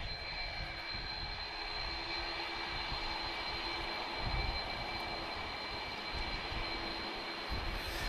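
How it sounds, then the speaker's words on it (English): An airliner with two CF6 jet engines roars steadily and loudly, a continuous broadband rumble with a high whining tone over it that holds for the whole stretch, with no talk. "I can hear 2 CF6 engines"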